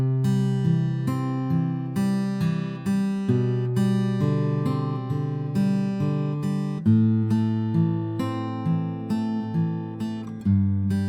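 Fingerpicked acoustic guitar plays the verse of a song, steady rolling picked notes over sustained chords, close and clear with no voices.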